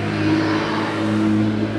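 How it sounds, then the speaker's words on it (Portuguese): A car engine passes along a nearby road, a steady, fairly loud mid-pitched drone that swells slightly and holds for the full two seconds with no talk over it. "tá demais hoje a estrada aí. Nossa, quanto barulho."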